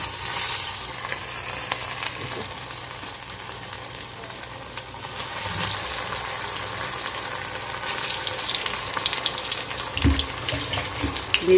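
Lottia fish frying in hot oil in a pan, a steady close sizzle and crackle running throughout with occasional faint clinks, no talking.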